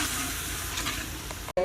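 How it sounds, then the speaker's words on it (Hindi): Red chili and spices fry with a tomato and onion masala for a beef lal mirch karahi, a steady close sizzle with faint stirring, ending in a sudden brief cut to silence. "मसाले शामिल करने के बाद इन्हें भी अच्छे तरीके से भून लेंगे।"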